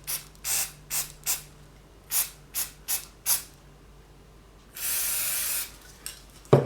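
Short individual bursts from a spray can used on a model railway layout, about ten quick close hisses in a row, then one longer sustained spray, ending with a light knock.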